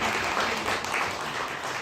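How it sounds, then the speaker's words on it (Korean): Audience applause at a film library talk event, honoring the director's mother: a steady, dense wash of clapping from a crowd filling the whole moment without break. "우리 어머니가 박수 한번 쳐주시죠."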